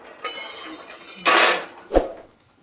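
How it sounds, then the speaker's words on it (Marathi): Freshly roasted peanuts are tipped from a pan onto a plate, producing a short rattling pour and scrape between scattered clinks and a final knock of cookware, close and fairly loud. "तर इथं हे लगेच प्लेटमध्ये काढून घ्यायचे"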